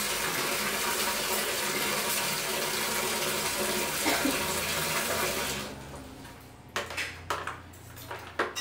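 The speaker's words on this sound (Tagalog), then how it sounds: "Ngayon, nilagyan na natin ng tubig para mas mabilis siyang makahigop ng tubig." Water pours in a steady, loud gush to prime a Mitsushi water pump, then stops partway through, leaving a few sharp splashes and knocks.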